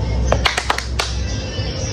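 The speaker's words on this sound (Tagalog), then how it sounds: "Isabay mo sa bola ang palakpak" A few sharp hand claps keeping time with a bouncing ball during a clapping game, a short uneven run of close claps over a low background hum.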